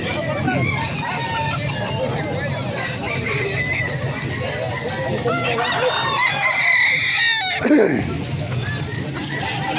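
Gamecock roosters crowing and clucking at a market selling fighting cocks in Angeles City, several birds calling repeatedly over a busy crowd with people talking nearby.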